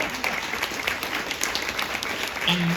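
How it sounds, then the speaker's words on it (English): A Comic Con panel audience applauds for the tech team, a steady crowd of many hands clapping, with a brief voice cutting through near the end. "please also give a round of applause to our tech team who set all of this up"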